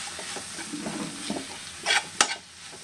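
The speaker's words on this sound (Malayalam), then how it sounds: "ആ പൊടിയുടെ പച്ചമണം പോകുന്നത് വരെ ഒന്ന് നന്നായിട്ട് വഴറ്റി കൊടുക്കാം" Ground coriander and garam masala sautéing in a pan for a mushroom masala curry, a soft steady sizzle with scraping stirs and a couple of sharper spoon clinks near the end.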